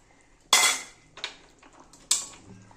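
A cooking pot of potol chingiri, a vegetable curry with pointed gourd, potato and prawns, is lifted off a gas stove. Three sharp metallic clanks ring out close by, the first and last loudest.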